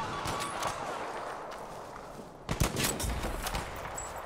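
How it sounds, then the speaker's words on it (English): Bursts of automatic gunfire rattle in the Battlefield V shooter, steady rapid fire mid-distance that swells into a louder, closer volley partway through. "Who are we shooting at?"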